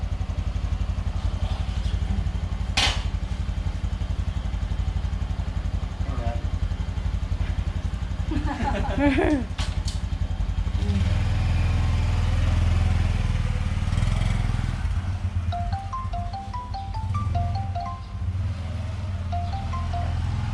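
A Honda CT125 motorcycle engine runs close by with a steady low rumble, revving up partway through, with some clatter and brief voices in the background.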